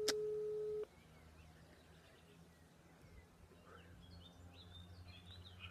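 A telephone tone on a phone call sounds once as a short, loud, steady beep, then gives way to quiet line noise with faint chirps.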